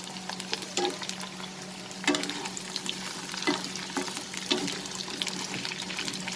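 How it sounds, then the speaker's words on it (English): Okra fries over a high flame in a pan, a dense, continuous sizzle up close, with periodic scraping and stirring taps and no talking. "So let's fry the okra."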